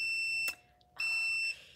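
A heat press touchscreen timer gives two sharp, steady high electronic beeps, each about half a second long, separated by a brief silence, loud and close with no talk.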